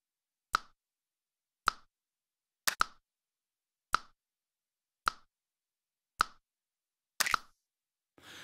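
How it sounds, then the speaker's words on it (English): Sharp, dry clicks and rim hits repeat about once a second, each followed by a short reverb tail, with a double hit near the end. "a reverb, a shared reverb now to this click and rim sound."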